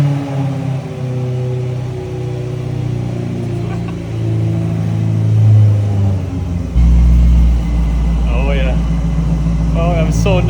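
Supercharged BMW E90 M3, rebuilt after engine failure, running on a dyno: a loud close engine drone climbs and swells, then jumps to a heavier roar partway through, with excited voices over it.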